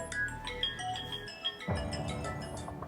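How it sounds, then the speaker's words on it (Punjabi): A melodic electronic ringtone plays at moderate volume, a repeating tinkling tune that shifts partway through, with no talking. "ਫੋਨ ਲੈ ਜਾਣੀ ਆਪਣਾ ਵੱਜਦਾ ਪਈ"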